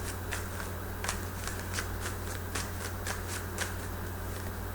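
Tarot cards are shuffled in steady repeated riffles and soft slaps, close and fairly quiet, with a constant low hum underneath.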